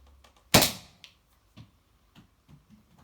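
A Nerf blaster fires a foam dart with one sharp, close pop, followed by a few faint clicks and thunks of handling.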